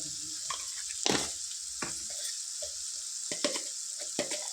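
Capsicum curry with turmeric sizzles in a pan as ginger-garlic paste goes in, a steady soft frying hiss broken by a few louder spatters and stirring clatters, close by with no talking.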